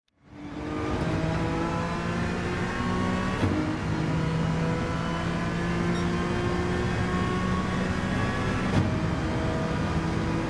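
Race car in Gran Turismo 7 runs at full power on track, its engine holding a loud, steady high drone for the whole stretch after a quick onset, with faint mechanical ticks and no talking.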